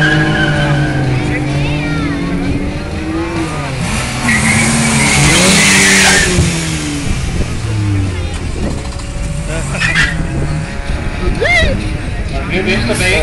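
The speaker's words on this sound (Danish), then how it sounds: "4-cylinder turbo og en 5-cylinder turbo" Two turbocharged cars, a 4-cylinder and a 5-cylinder, launch side by side in a drag race, with loud revving engines, gear-change swoops and tire noise throughout, while a commentator talks over the roar.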